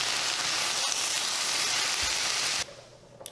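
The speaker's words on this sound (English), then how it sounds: "add a little bit of oil, add some chopped garlic and ginger, let that saute for a minute" Chopped garlic and ginger sizzle loudly in hot oil with spinach, a close, continuous frying hiss that cuts off abruptly near the end, leaving a quieter background.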